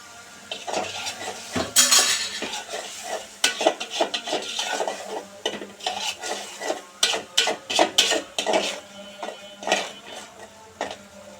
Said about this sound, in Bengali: আমি আর কয়েক সেকেন্ড এভাবে নেড়ে নেড়ে মশলাটাকে কষিয়ে নেব